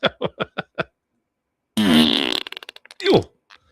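A donation-alert fart sound effect plays on a livestream: five short popping clicks, then a long, loud, wet, sputtering fart that trails off into small bursts, followed by a brief squeaky tail.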